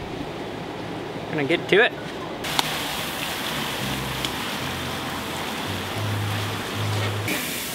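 Liquid nitrogen poured over slime gives a steady hissing, bubbling rush like rain, with a brief spoken remark and some clatter near the start.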